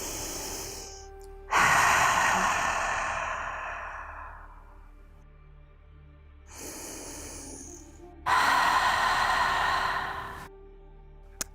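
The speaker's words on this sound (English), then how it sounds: "So this is when we start making sound through the breath. It sounds like ocean waves." Loud yogic ocean-wave breathing heard up close: two long, hissing, rushing exhalations, each rising sharply and fading slowly, with quieter breaths in between and no speech.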